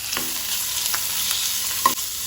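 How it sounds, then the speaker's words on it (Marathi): Prawns fry in hot oil with finely chopped onion and green chillies, giving a constant close hiss and sizzle with occasional stirring scrapes and one sharper clink near the end. No voices. "तशें तातूंत आमी सुंगटां घालुया"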